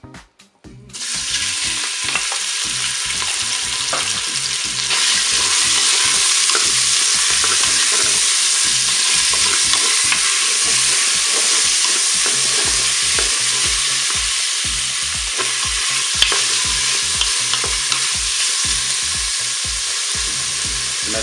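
Meat frying in hot olive oil in a Cookeo multicooker, a steady loud sizzle throughout with occasional stirring scrapes and crackles, no voices.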